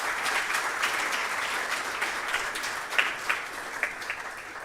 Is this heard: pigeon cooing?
no